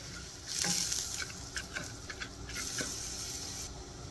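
A spoon stirs broth into rice in a pot over medium heat, soft wet scraping and swishing in brief close strokes with a faint sizzle under them.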